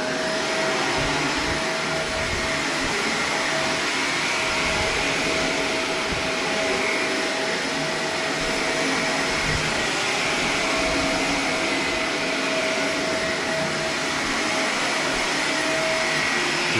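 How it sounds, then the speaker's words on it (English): A Shark APEX Duo Clean Zero M upright vacuum cleaner runs steadily and loudly for the whole stretch, a constant motor whine and airflow roar with a faint tonal hum and no talking. "Another beast here to get scared of the vacuum."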